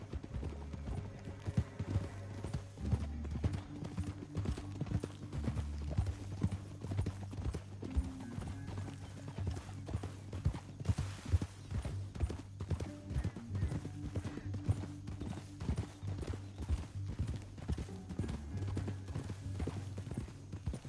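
Horse hooves clip-clop at a steady walking rhythm in Red Dead Redemption 2, close and continuous over a low rumbling game soundtrack, with a brief whinny.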